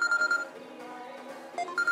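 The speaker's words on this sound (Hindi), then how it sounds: "अभी नाम लिया और फोन भी आ गया" A phone rings with an incoming call, giving a short series of bright electronic tones that start and stop in quick pulses, fairly close.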